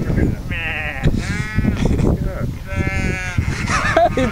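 A person repeatedly imitates sheep bleating, drawn-out nasal wavering cries one after another, with some talking mixed in between.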